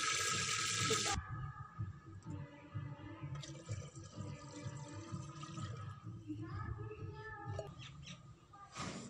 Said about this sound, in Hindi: अब हम उसमें डालेंगे 2 गिलास पानी।